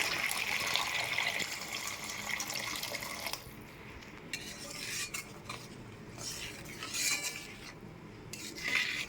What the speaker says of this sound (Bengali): এবার পরিমাণ মতো গরম জল দিয়ে দেবো।